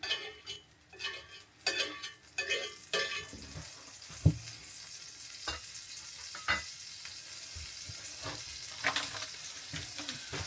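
Butter sizzles and fries in a pan at a campsite breakfast of bacon and eggs, a close, quiet crackle with bursts of spatula scraping and a few sharp metallic clinks, no talking.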